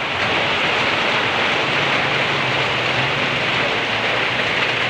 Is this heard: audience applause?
no